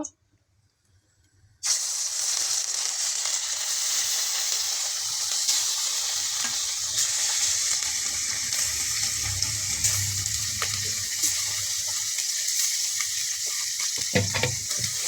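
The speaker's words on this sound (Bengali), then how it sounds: "এখন কড়াতে তেল দিয়ে দেব। একটু নেড়ে দেব। এখন এক এক করে মাছগুলো দিয়ে দেব।" After a short silence, a loud, continuous hiss of fish frying in hot oil in a wok erupts and holds steady, with faint stirring clicks near the end.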